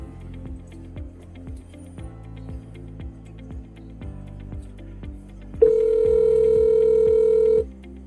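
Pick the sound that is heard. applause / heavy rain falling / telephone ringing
telephone ringing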